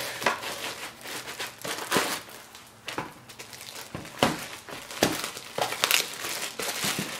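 Close plastic bag crinkling in irregular bursts, loud rustles and crackles as the bag is handled, with no talking.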